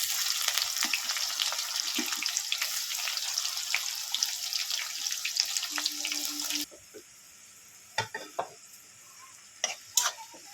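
Onions and green chillies fry in a pan for a village-style chicken dish, giving a close, steady sizzle for about six seconds that then cuts off, followed by quiet with a few sharp clinks.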